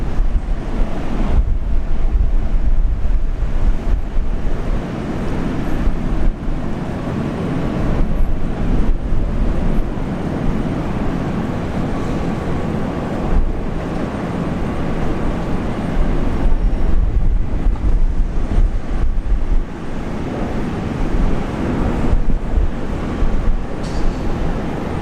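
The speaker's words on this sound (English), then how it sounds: "Jetstar A321." A Jetstar Airbus A321 airliner in new livery at Brisbane International Airport produces a loud, sustained low roar that swells and eases over about 25 seconds, with no voices.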